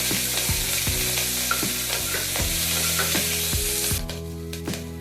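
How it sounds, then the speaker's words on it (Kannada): Green chillies frying in a pan for a banana stem stir fry, a steady close sizzle with a spatula scraping and stirring at a regular beat, then the scraping stops near the end while the sizzling continues. "ಇದು ಸಹ ಸ್ವಲ್ಪ ಫ್ರೈ ಮಾಡ್ಕೊತಾ ಇದ್ದೀನಿ."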